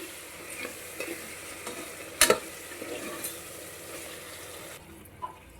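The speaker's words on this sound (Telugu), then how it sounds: "2 to 5 మినిట్స్ ఇలా బాగా కలుపుకుంటూ వేగనిద్దాం" Potato and paneer curry fries in a pan while a spoon stirs it, making a soft sizzle with light scraping and one sharp clack of utensil on pan partway through. No voices.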